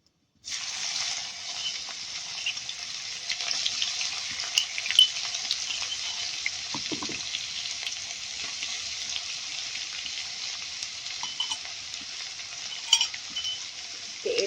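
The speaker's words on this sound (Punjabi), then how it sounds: "ਤੇਲ ਗਰਮ ਹੋ ਗਿਆ ਤੇ ਹੁਣ ਆਪਾਂ ਇਹਦੇ ਵਿੱਚ ਪਾ ਦੇਣਾ ਜੀ ਅੱਧਾ ਚਮਚ ਜੀਰੇ ਦਾ ਤੇ ਨਾਲ ਹੀ ਇੱਥੇ ਪਾ ਦਾਂਗੇ ਜੀ ਅਦਰਕ ਲਸਣ ਦਾ ਪੇਸਟ" Cumin seeds and ginger-garlic paste hit hot oil in a pan, a sudden bright sizzle that stays steady and close for the whole stretch, with a brief stir clatter partway through.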